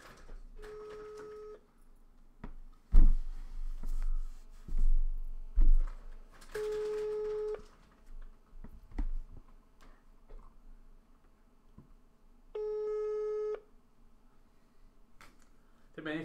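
A phone ringback tone sounds three times, each ring about a second long and spaced several seconds apart, with muffled voices and scattered noise between rings.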